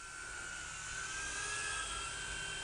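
Small FuriBee F36 quadcopter in flight, a steady high-pitched whine of tiny motors and propellers holding a nearly constant tone, fairly faint and alone without talk.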